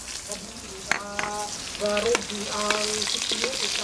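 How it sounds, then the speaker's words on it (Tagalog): Onions sizzle and crackle steadily as they sauté in a hot pan while a person talks over the frying. "Pagkatapos po natin may prito ng bagya, magigisa na tayo."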